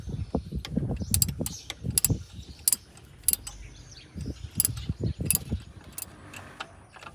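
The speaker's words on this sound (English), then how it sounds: "And then we'll continue with the ratcheting handle." A ratcheting handle turns the 14mm drive belt tensioner mounting bolt on a Hyundai Genesis Coupe, giving short bursts of close metallic clicking with pauses between strokes.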